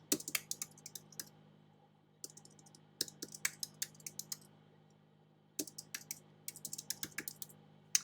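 Rapid clicking keystrokes on a computer keyboard as a folder name is typed during real estate photo file management, coming in three bursts separated by short pauses, close and quiet.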